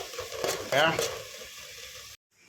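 Green chillies and ginger sauté with salt in a pan for okra pickle, giving a short burst of close frying hiss with a stir or two. A brief voice sounds early on, and the clip cuts to near silence at the end.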